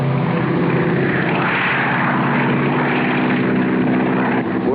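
A propeller plane engine in a 1956 wilderness film serial drones loud and steady throughout, a continuous rumbling roar with no pauses.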